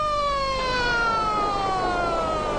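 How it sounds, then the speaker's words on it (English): A Mujahideen ambulance near Jalalabad races toward the front line under shell fire, its siren wailing loudly in long falling tones over engine rumble, close and continuous. "Under shell fire, a Mujahideen ambulance heads up to the front line."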